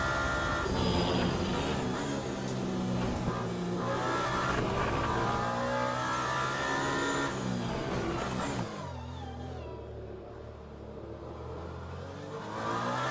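Hypercar prototype engine in the Le Mans Ultimate racing game, a loud sustained high-revving roar with shifting pitch that drops abruptly to a lower drone near the end, with no talking.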